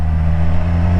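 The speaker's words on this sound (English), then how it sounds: "I don't know whether you can hear the exhaust or not." A motorcycle's exhaust sounds while it is ridden, a steady loud low engine drone with a strong hum, heard from the rider's position with wind noise around it.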